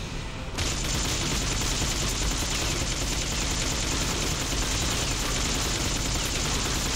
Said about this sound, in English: Can't you see these bullets hitting you?